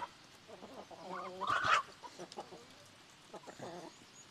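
Chickens and a rooster on a rural Brazilian farm cluck in scattered bursts, one louder squawk standing out midway, fairly near but soft overall.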